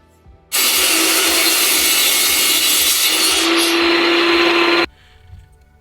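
A power saw cuts through an Armstrong Woodworks Tegular wood ceiling panel border, starting abruptly and running loud and steady for about four seconds with a pitch shift midway, then stopping into a quiet room.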